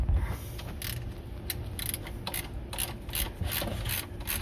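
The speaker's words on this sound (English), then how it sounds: "we just come with our little teeny weeny ratchet" A small hand ratchet clicks in quick repeated bursts while loosening the oil drain plug on a 2004 Chrysler Crossfire, close up over a steady low shop rumble.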